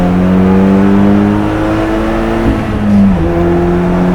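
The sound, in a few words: 2.0 TFSI swapped Peugeot 306 GTI accelerating with wheel spin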